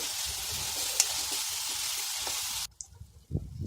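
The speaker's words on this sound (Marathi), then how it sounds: "तेल सुटेपर्यंत हे वाटण व्यवस्थित परतून घ्यायचं आहे" Fresh ground coconut paste sautéing in oil for a spicy Bangda mackerel curry, a steady close sizzle with light stirring that cuts off abruptly near the end, leaving only a few faint scrapes.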